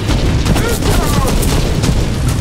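Sustained gunfire from players attacking a castle in the Fortnite video game, with dense, loud bursts of shots and booms running continuously, mixed with voices talking over the action.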